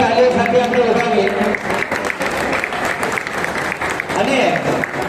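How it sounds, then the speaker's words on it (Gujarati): An audience gives loud, steady applause to students receiving trophies at a school annual function. Voices and other sound carry on over the clapping throughout. "આપણે જોરદાર તાળીઓથી વધાવીએ."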